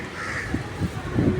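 A crow caws several times outdoors near laundry hung to dry, rough short calls in quick succession over a steady background hum.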